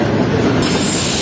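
Awam Express passenger train, 13 Up, rolling along a Pakistani railway near Karachi, a loud, close, continuous roar of wheels on track with hissing and metallic squeal, no voices.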